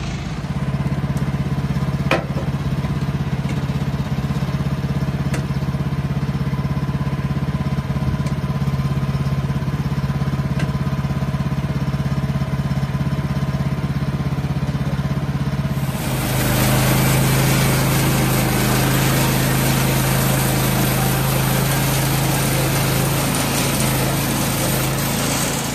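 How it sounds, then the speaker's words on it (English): A loud, steady engine of a Woodland Mills HM126 portable sawmill drones throughout, with the blade cutting logs into lumber and rising in intensity partway through, continuous mechanical noise with no talking. "we're going to be sawing lumber and making 6x6"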